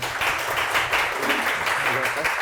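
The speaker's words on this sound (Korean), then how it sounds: "일단 박수로 맞아주시면 감사하겠습니다." An audience at a seminar on AI and software developers claps together in dense, continuous applause, full and close for a few seconds.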